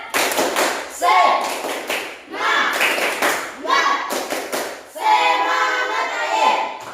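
A school class performs a rhythmic spirit clap, bursts of patterned hand claps and thumps in short phrases separated by brief pauses, loud and close, with voices among the group.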